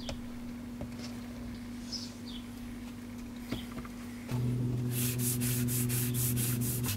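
Sanding a body panel on a limousine being converted into a family vehicle: a steady low hum, then from midway louder, rhythmic scraping strokes repeating close by.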